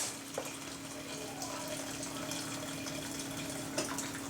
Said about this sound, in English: I'm pouring all of that liquid off.